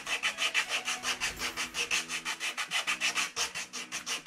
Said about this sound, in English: you can also take like a pumice stone and use it to help scrub as well